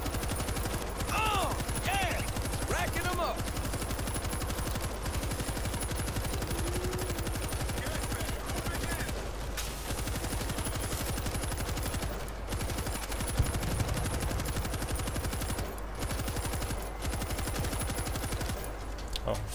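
Rapid machine gun fire rattles through a World War Z shooter level in New York, with continuous bursts of shots and explosions layered over a dense, busy game soundscape at moderate level.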